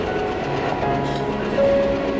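A passenger train rolls steadily out of New Jalpaiguri station toward the Dooars, giving a continuous close rumble with faint tonal whines and no voices.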